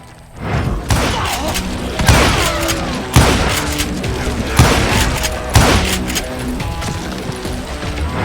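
Gunfire in the western shooter Call of Juarez: Gunslinger, loud close shots in a run of about five spaced bursts, each cracking report followed by ringing echoes and a background score.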